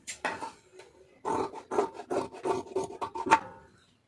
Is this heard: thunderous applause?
no